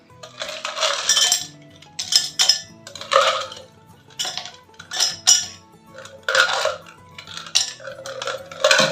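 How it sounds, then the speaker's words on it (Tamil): Ice cubes clink into a glass while a mango milkshake is made, a series of bright, separate clinks and taps at an uneven rhythm, close up and clear. "கிளாஸில் வந்து நம்ம ஐஸ் கியூப்ஸ் எடுத்துக்கலாம்"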